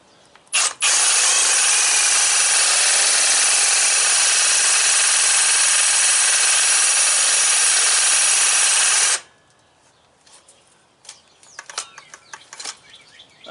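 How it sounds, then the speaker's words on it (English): Reciprocating saw cutting through a stuck anchor pin on a big truck, a loud steady buzzing roar for about eight seconds that stops abruptly, followed by scattered clanks and handling noises. "Never go full speed with a sawzall cutting metal"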